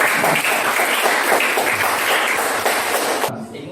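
A classroom audience applauds the first student group with dense, steady clapping that carries on for several seconds before stopping abruptly.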